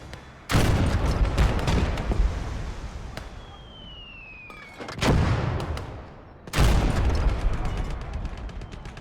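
Heavy gunfire in a war video game: three loud explosive bursts, each decaying into rumbling echo, with a whistling projectile sweep between the first two, close and dominant with no voices.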